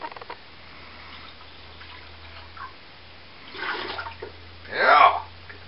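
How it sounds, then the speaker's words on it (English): Spring water pours into a container while mead is being made, a soft running trickle that swells into a louder gurgling splash near the end, with a low hum beneath and quiet background. "A little excess spring water."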